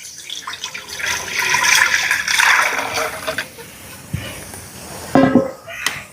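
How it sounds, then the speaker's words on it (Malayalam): Water poured from glasses into a cooking pot for rice, splashing and gurgling in uneven bursts close by, with a voice talking over it. "അപ്പോൾ ഞാനിതാ ഇതിലേക്ക് 10 ഗ്ലാസ് വെള്ളമാണ് നമ്മളിത് ഒഴിച്ച് കൊടുക്കണേ."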